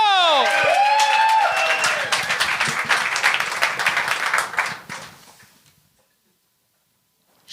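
Game-show studio audience bursts into loud applause with cheering, a dense crowd of clapping that gradually thins and fades out to near silence over several seconds.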